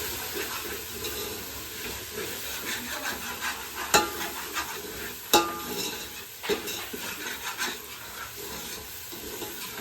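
Spoon stirring coriander-cumin powder with chilli into a pan for dal dhokli, a steady soft scraping and sizzle with a few sharper clinks against the metal, moderately close and alone without speech.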